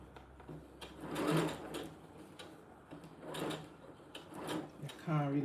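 Sewing machine stitching small doll clothes slowly in short intermittent bursts of mechanical whirring and clicking, close by, with a voice talking at times.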